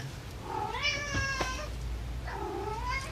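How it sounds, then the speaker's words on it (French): A domestic cat meows twice in a rising, drawn-out whine, close and fairly loud over a low background hum, with no talking. "Oh là, j'ai mon chat qui est d'accord."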